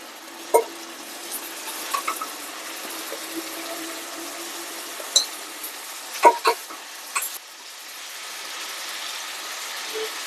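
Marinated red chicken is added to hot oil to fry for a Punjabi spicy red chicken dish, with a low, steady sizzle broken by a few sharp clatters and handling knocks, and no talking.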